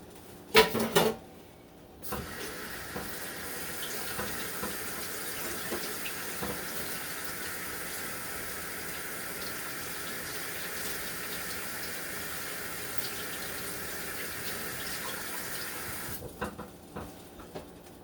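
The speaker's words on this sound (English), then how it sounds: "let me wash my hands" Tap water runs steadily into a kitchen sink during hand washing, a continuous hissing splash that starts after a brief clatter and holds evenly for about fourteen seconds before shutting off.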